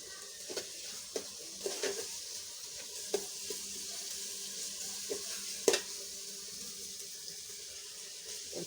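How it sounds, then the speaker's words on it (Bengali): Ground spice paste goes into a pan of softened onions and fries with a low, steady sizzle, broken by occasional sharp clinks and scrapes of a spoon. "পেঁয়াজগুলি একটু নরম হয়ে আসলে আমি এই মশলাগুলি দিয়ে দিলাম"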